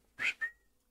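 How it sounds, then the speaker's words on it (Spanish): A person gives two short whistles in a farm level of the horror game Devour, the first a bright, rising chirp and the second a thinner sustained note that fades out, heard alone and fairly quiet. "Dame un silbidito."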